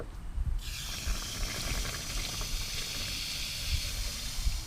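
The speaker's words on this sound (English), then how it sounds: "I'm going to run water through it once again" Water runs steadily through the cooling system of a Toyota MR2 during a coolant flush, a constant hissing gush that sets in abruptly after a brief pause and continues loud and close with no talk.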